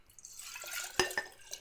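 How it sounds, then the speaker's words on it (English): Hot water, around 30 to 40 C, poured into loose Commodore PC-10 keyboard keycaps, giving a few quiet drips and splashes with a couple of sharper clinks against plastic, close and fairly soft. "we use some hot water around 110, 120 Fahrenheit, 30 to 40 C, and then we just pour that into the keycaps here"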